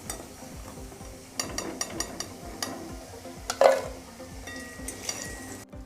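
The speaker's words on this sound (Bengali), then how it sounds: "কলাগুলো তেলের মধ্যে দিয়ে ভেজে নেব।" Raw bananas frying in hot oil in a pan, giving a soft steady sizzle with clinks and scrapes as they are stirred and turned, close and fairly quiet, with no voices.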